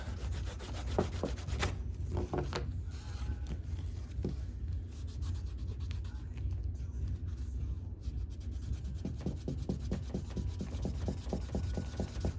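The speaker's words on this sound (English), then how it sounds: "I will take it and lay it flat on the edge of the table and burnish in" A leather edge is burnished flat against a table edge, giving a close, dry rubbing and scraping with repeated quick strokes, in irregular bursts early on and again near the end.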